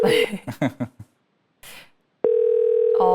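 A telephone call connects on a Korean stock-advice broadcast: a few short tones and a burst of noise, then a steady, loud ringback tone that holds to the end and changes pitch briefly.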